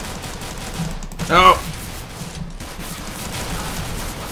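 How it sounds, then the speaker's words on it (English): Pistol gunfire in CS:GO gun game mode, a short burst of shots mixed with game noise and a sudden brief shout. "Can't get a kill with these pistols."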